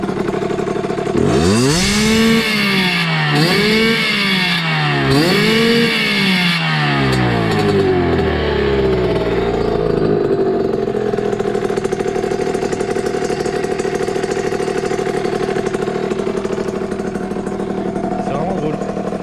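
A motorcycle engine, an MRT, revs sharply three times in quick succession, each blip rising and falling loudly, then settles into a steady close idle.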